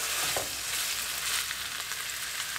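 Meatloaf browning in an oiled pan gives a loud, dense, continuous sizzle with faint crackles, close up and without any speech.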